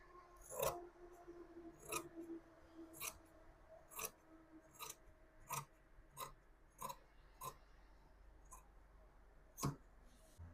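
Scissors cut through fabric to trim a border, giving a series of crisp snipping crunches spaced a second or so apart, quiet and close, with soft rustling between cuts.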